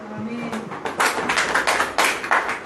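A church congregation claps together at a sermon, a burst of dense overlapping hand claps building up and pulsing in waves for a couple of seconds, fairly loud and close.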